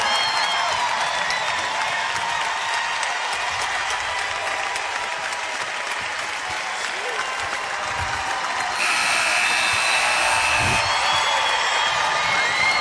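Basketball arena crowd cheering and applauding after the final buzzer of an NCAA women's game between Texas Tech and Mississippi State, a loud continuous roar with claps and whoops that swells further toward the end.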